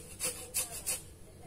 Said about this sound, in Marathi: आता आपण थोडी लिंबाची साल किसून घालत आहे याच्यात.